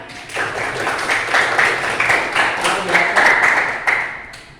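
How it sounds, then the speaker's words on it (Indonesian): Students in a classroom clap for two classmates: a dense, scattered patter of hand claps at moderate loudness that holds steady for several seconds, with some voices mixed in. "Berikan tepuk tangan untuk kedua teman kalian."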